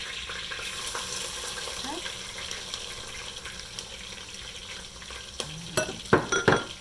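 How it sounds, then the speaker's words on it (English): Onions being added to a pan and frying, with a steady soft sizzle and scraping stirring, followed by louder clattering bursts near the end. "I'm going to now add the onions."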